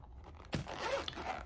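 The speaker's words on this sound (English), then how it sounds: "Really good zipper, you guys." The gold zipper on a pink wipeable toiletry bag is pulled open in one close, quiet, drawn-out zip, with light rustling afterward.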